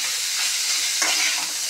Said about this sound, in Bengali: এবার ভাজাটা হোক আস্তে আস্তে, ঢেকে দেবো